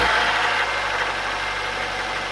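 An EJ Holden car engine idles steadily up close with a low, constant rumble and a slight vibrating buzz. A faint knock comes through, and no one speaks.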